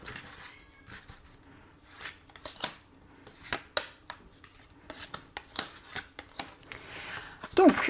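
Oracle cards shuffled by hand for a reading, crisp riffling and slapping bursts at an irregular pace, close by, with someone speaking over them.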